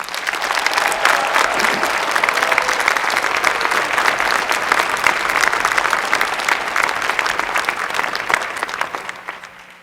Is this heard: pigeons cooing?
no